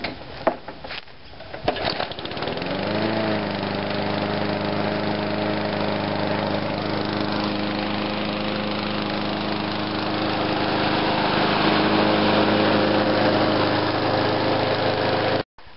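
A Victor mulching lawn mower engine, running on very old fuel, sputters and catches after a few seconds, then settles into a loud, steady idle that continues close by for the rest of the clip.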